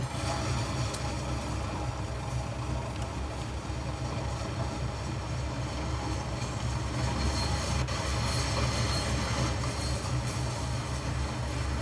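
A train in the video game Train Sim World, on the Tees Valley Line, rumbles along continuously with a heavy, steady low drone and rolling mechanical noise, loud and unbroken throughout.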